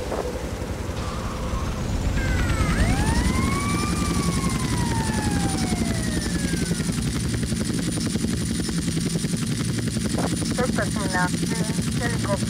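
Hunter attack helicopter in GTA Vice City, a continuous rotor drone with rising and falling siren wails and sweeping tones over it, with voices talking throughout.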